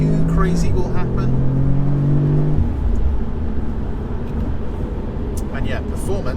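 An Audi S3 with a 2-litre engine accelerates on the road, its engine note rising steadily and then settling into a broad road and wind roar, loud and close throughout, with no talk over it.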